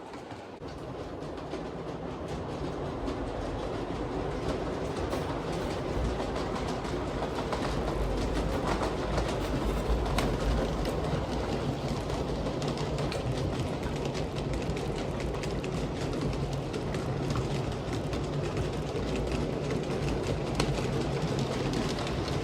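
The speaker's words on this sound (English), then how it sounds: "the electric locomotive is a lot quieter than a diesel" G-scale model electric locomotive running on an outdoor track under live overhead wire, a steady close rolling rumble with faint rail clicking and distant birds, no speech.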